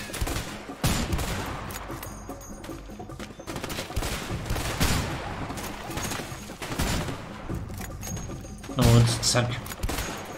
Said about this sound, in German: Ich schieß auf den, der da rumläuft.